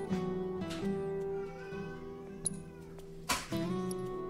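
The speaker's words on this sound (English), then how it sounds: "Do you hear this cat, like, just wailing in the background?" A cat wails in the background with drawn-out, sliding, tonal cries layered over a steady hum, plus a couple of brief louder bursts near the end.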